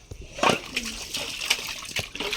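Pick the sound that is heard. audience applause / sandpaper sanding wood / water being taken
water being taken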